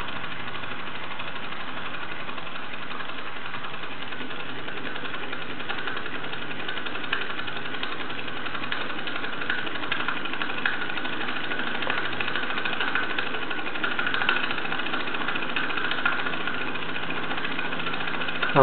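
A Bowman M135 toy steam engine drives a Doll 839 dynamo, giving a steady, even running hiss and whirr that holds at a moderate level throughout with no one talking.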